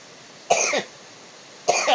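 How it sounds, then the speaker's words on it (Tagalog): Two sharp coughs from a preacher during a sermon, about a second apart, close and fairly loud, over a quiet background. "Grabing ubo na. Niyari ako sa ubo."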